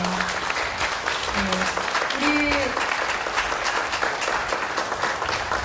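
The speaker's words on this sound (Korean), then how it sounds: "다시 한번 큰 박수 부탁드리겠습니다" Audience applause at a painting exhibition with music, steady clapping from many hands at moderate volume, while a few voices speak briefly over it.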